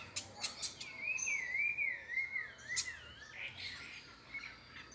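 Red-legged seriema calling in open countryside, a clear series of rising and falling shrill whistled notes in the middle of the clip over quieter chirping birds and faint insects.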